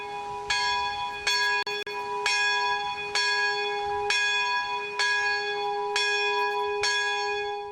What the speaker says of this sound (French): Quatre fois par jour, la cloche appelle les retraitants à se réunir